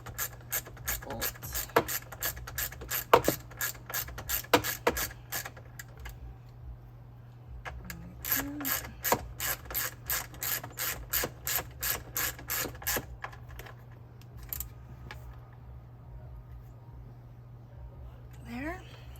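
A ratchet wrench tightens a bolt on a Jeep Wrangler door, its pawl clicking in rapid bursts of strokes with short pauses between, loud and close over a low steady hum.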